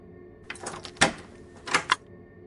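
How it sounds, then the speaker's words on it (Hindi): A key turns in a flat's door lock and the door opens, heard as a few close, sharp metallic clicks and rattles in two short bursts against quiet room tone. "चाबी लॉक में परफेक्टली फिट हो गई।"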